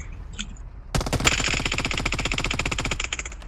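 Automatic gunfire in the PUBG Mobile battle royale game, one loud sustained burst of rapid, evenly spaced shots lasting about two seconds, following a quieter stretch with faint background sounds.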